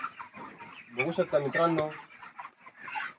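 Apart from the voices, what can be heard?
chickens clucking in poultry shed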